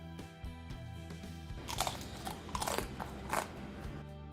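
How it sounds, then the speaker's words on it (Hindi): Someone bites into and chews crispy fried potato papdi (aloo papdi): a series of close, sharp crunches in several bursts over a low background hum, with no talking. "तो आप सुन सकते हो ये काफी क्रिस्पी और क्रंची से बने हैं"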